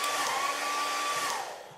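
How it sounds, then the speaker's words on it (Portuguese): A hair dryer blows steadily at close range, a loud continuous whooshing roar with a faint motor whine that starts to fade near the end. "Secador de cabelo?"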